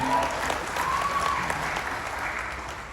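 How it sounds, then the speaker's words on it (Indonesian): An audience at a KAHMI national coordination meeting in Batam applauds steadily, dense continuous clapping that starts at full strength and slowly fades over a few seconds, with a faint tone or voice briefly audible. "Kita beri tepuk tangan untuk beliau."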